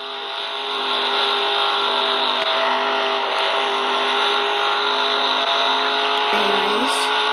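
A racing car engine in a driving game holds a loud, steady drone at high revs, with a brief pitch dip near the end.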